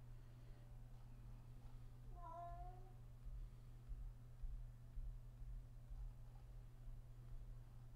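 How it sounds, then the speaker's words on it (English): A pet cat lets out a single short meow, fairly faint, over a constant low electrical hum and soft background noise, with no one talking. "this cat has been a real jerk today"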